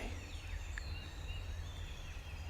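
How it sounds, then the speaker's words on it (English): A wild turkey gobbles faintly in the distance on a windy morning near a field edge, a brief call rising over steady low wind rumble. "I've heard one other turkey gobble."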